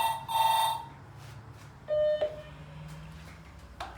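A telephone gives electronic ringing tones, a short bright burst and then a second ring a moment later, over a quiet indoor background.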